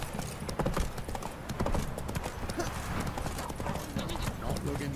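Horse hooves gallop in The Witcher 3 video game, a loud, fast, steady clip-clop that runs the whole time with a brief whinny, while a voice talks over it.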